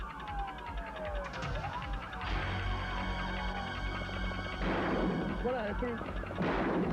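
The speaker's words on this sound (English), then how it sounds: "One out of three were taking gunfire from the suspect vehicle." Bursts of gunfire crack from a suspect vehicle during a police chase, amid a wailing siren and engine noise, with voices talking over the chaotic scene.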